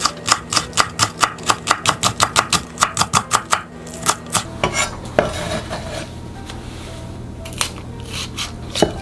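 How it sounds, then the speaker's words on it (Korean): A knife chops the white part of a green onion on a cutting board, a fast, even run of sharp close taps, then a pause and a few scattered cuts and clinks. "파 흰대 부분으로 반만 잘라서 넣을게요"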